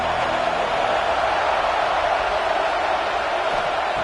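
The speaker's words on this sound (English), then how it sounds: "And here comes the noise. This crowd is trying to inspire this defense to make a big red zone stop." A college football stadium crowd roars during a defensive red zone stand, a loud, continuous wash of massed cheering that holds steady throughout without letting up.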